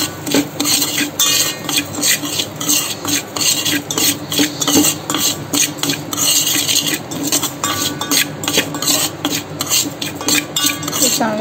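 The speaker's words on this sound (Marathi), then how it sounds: "तूप चांगलं तापलं त्यामध्ये हे गवठी तांदूळ भरडून घेतलेत ते टाकूया" Coarsely ground village rice roasts in hot ghee in a pan, stirred with a metal spoon that scrapes and clinks in a steady, rapid rhythm over a low sizzle, close and fairly loud.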